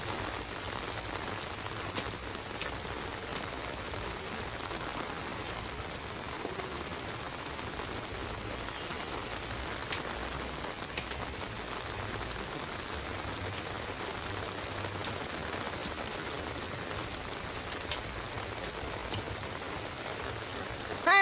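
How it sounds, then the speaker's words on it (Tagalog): Steady rain falling on a day of wet weather, a constant even hiss of drops on surfaces throughout, moderately loud with a few sharper patters and no voices. "Maulan talaga."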